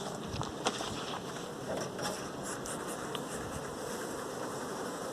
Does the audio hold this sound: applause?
no